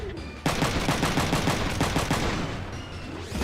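A multi-shot weapon firing in the mech video game Front Mission 3, a rapid burst of roughly a dozen evenly spaced loud shots that fade off, with a rising mechanical whine at the end.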